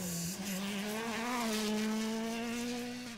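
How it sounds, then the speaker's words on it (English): Thierry Neuville's Hyundai WRC rally car howls at high revs on the Ypres rally stage, its engine pitch rising steadily after a brief shift, close and loud before easing slightly at the end. "Thierry Neuville is entertaining the fans with his Hyundai WRC car"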